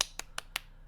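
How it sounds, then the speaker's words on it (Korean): A few hand claps, three sharp separate strikes spaced about a fifth of a second apart, close and quiet, at a youth church service held online. "박수하겠습니다."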